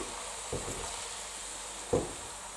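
Diced potato slides into hot oil in a pan for a Spanish omelette (tortilla de patatas), giving a steady close sizzle throughout with two brief louder hisses as pieces go in.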